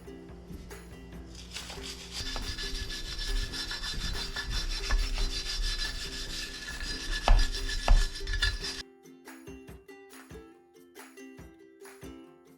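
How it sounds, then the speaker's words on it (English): A wire brush scrubs the corners of a steel wheel from a 1987 Jeep Wrangler before priming, a busy abrasive rasping for about nine seconds that is loud and close, then gives way to quieter scattered scrapes and taps. "I am going to give it a quick wire brush just to get down in the little corners a bit"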